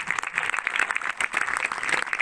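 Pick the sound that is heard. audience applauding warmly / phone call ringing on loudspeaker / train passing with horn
audience applauding warmly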